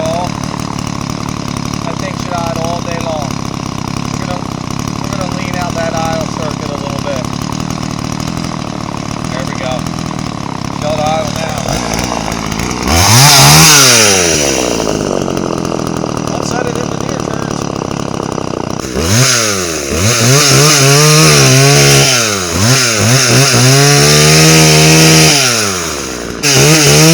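McCulloch Mac 3200 32cc chainsaw engine with a fault causing it to load up at idle, running close and steady, then revving in sweeping bursts that rise and fall around the idle, with a voice speaking over it.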